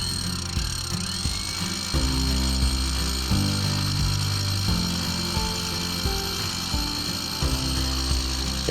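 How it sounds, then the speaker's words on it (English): A Hilti hammer drill bores a hole into a diesel particulate filter on a Volkswagen Transporter T5, a steady rattling, impacting drone with brief pauses and shifts in pitch, close and continuous throughout. "Here you see me drilling the first hole."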